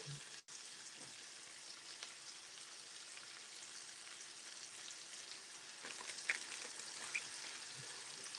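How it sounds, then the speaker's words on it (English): Ground lamb frying in a pan gives a steady, soft sizzle and crackle throughout, with faint scraping as the meat is broken up. "Done breaking up the ground lamb."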